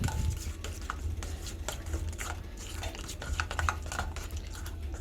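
A sauce seasoned with Cajun seasoning and honey, made for a spicy BBQ chicken burger, is mixed in a bowl, giving a steady scraping, clicking stir close by that continues for several seconds with no talking.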